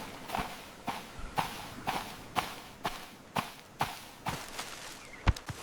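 Footsteps walk steadily into a jungle, a faint series of about a dozen soft, evenly spaced crunching steps at walking pace, heard alone.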